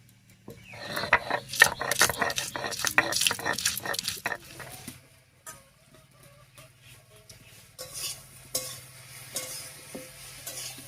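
Garlic and green chillies ground together for a spicy kochur loti and shutki fish curry, giving rapid rhythmic scraping and pounding strokes, loud and close for the first five seconds, then quieter intermittent rubbing.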